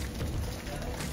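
Steady rain hisses down on farm fields in a dense, even patter, close and moderately loud, with no voices.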